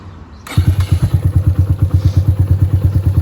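A Suzuki GSX 125 motorcycle engine catches and settles into a steady, thumping single-cylinder idle, loud and close up, with even regular pulses throughout.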